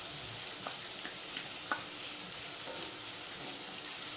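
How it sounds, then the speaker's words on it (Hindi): Chopped onions fry in a hot pan for red chilli chicken, giving a steady, close, dense sizzle with faint occasional clinks and no voices. "अभी इसमें प्याज को ऐड करूंगी, जो चॉप किया हुआ प्याज है वो डाल दूंगी।"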